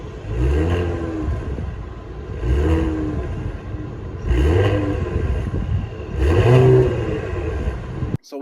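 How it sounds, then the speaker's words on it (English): Four short revs from a 2022 Cadillac CT5 550T, each exhaust note rising and falling back in a regular rhythm, close and fairly loud over a low idle between blips. "rev it a tiny bit so you can hear the exhaust note."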